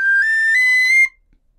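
Irish tin whistle played in the higher octave, one bright sustained high note held about a second and cutting off cleanly, loud and close.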